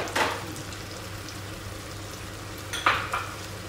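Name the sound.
cloves sizzling in hot oil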